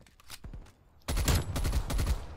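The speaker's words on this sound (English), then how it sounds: "I'm dropping straight HE rounds on y'all fucker." High-explosive rounds fired in the video game Black Ops Cold War: a few scattered shots give way to a sudden, loud run of rapid automatic fire that keeps hammering to the end.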